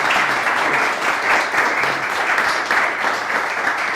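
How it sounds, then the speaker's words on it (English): An audience at an Angular developer meetup in Vienna applauds, a full, steady wash of clapping from many people that holds evenly throughout without any talking over it. "An applause, please."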